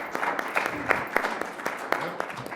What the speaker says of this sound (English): big round of applause. That was fantastic.